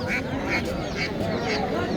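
Ducks quack in a steady series of short, nasal calls, about one every half second, over a murmur of crowd noise at a poultry market.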